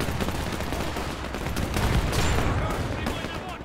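Dense battlefield gunfire in the World War II strategy game Men of War II, rapid overlapping shots and bursts from rifles and machine guns, loud and continuous, with someone talking faintly underneath.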